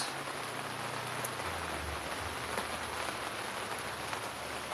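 Heavy rain pours steadily outside over a backyard urban farm in May, a dense, constant hiss of drops on surfaces and leaves, loud and close, with no voices.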